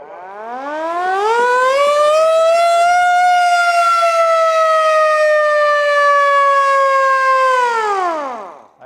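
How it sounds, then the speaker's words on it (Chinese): A Japanese colonial-era air raid warning siren winds up, holds a loud, steady wail for about six seconds, then winds back down, heard alone with no voices. "这真正是迄个空袭警报较早的迄种声音呢"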